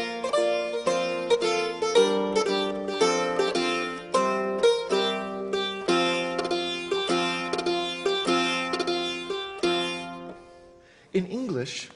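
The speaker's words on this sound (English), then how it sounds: "However, this is the sound of the Bray harp," A medieval European bray harp, its buzzing plucked strings ringing in a steady, moderately loud melodic line of overlapping notes, played alone before a brief different sound at the end.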